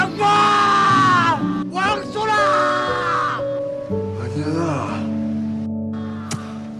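A man yells out his pent-up emotion in a Korean period drama, with long, loud, strained screams that break off and return over a swelling musical score.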